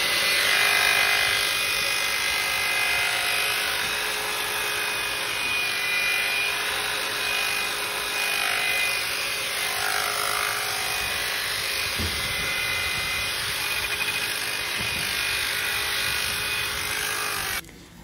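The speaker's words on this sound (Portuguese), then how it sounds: "com a lixa 800 para a gente poder iniciar o processo de polimento" An aluminum wheel is sanded with 800-grit sandpaper during restoration, with a power tool giving off a steady, loud, high whine and a continuous abrasive hiss that holds without a break until it cuts off at the end.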